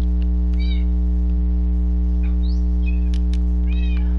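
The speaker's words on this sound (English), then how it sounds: "I swear these cats better shut up." Cats in a video game meowing in several short separate calls over a loud constant electrical hum, with no talking.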